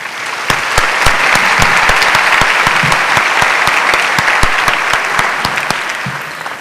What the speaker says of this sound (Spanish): para quien les pido un aplauso